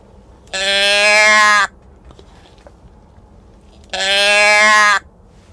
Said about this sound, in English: It's a sheep call.